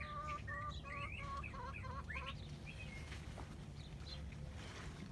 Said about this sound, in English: I love being out here early in the morning. Hear the birds.